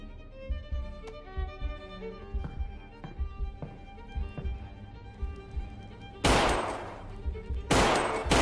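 Gunfire in a Half-Life John Wick mod game: two loud, dense bursts of rapid shots cut in near the end, the second briefer, after a stretch of rhythmic game music with soft thuds.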